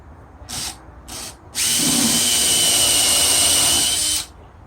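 A power drill bores into wood on a Nicholson English/Roubo style workbench using a bit with a depth stop: two short bursts, then one sustained loud whining run of about three seconds before it stops.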